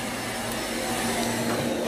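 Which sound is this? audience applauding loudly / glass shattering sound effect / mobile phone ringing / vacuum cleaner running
vacuum cleaner running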